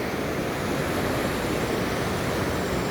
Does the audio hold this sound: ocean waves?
yes